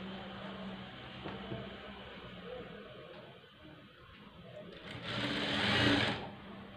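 A sewing machine stitches the neck of a plain blouse in a steady, close mechanical whir that runs continuously and swells louder near the end.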